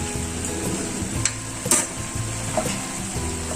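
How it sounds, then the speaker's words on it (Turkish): Chicken being stirred with red pepper flakes, curry and garlic in a hot pan, with a steady sizzle, a few sharp clicks of a utensil against the pan, and no talk. "Karıştırıyorum."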